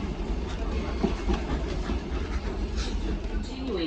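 A scenic train running from Cairns up to Kuranda rolls along with steady rumble and rhythmic clickety-clack of the wheels, heard from on board under faint background voices.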